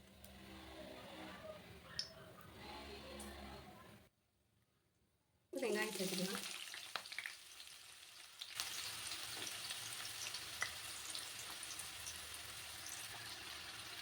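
Cinnamon, cloves and cardamom frying in oil in a pan, a faint sizzle cut by a brief silence, then a sudden louder crackle that settles into a steady hiss.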